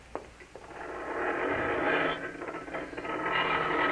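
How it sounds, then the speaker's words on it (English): A garage door rumbles open as a radio drama sound effect, a mechanical ratcheting and grinding that starts with a clunk and builds into a sustained rattling roll, heard alone. "You open the garage door"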